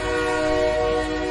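A passenger train pulling away and gathering speed on a journey out of the city, a steady loud rumble with strong sustained tonal hum, continuous throughout with no talk.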